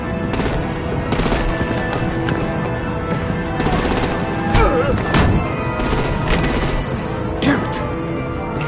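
Loud automatic gunfire and heavy explosions rip through a Batman video game battle, with rapid bursts and booming hits layered together and voices heard underneath.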